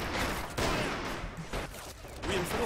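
Gunfire crackles in a Men of War Assault Squad 2 battle, repeated shots and bursts rising over a dense, noisy battlefield din, loud and close throughout.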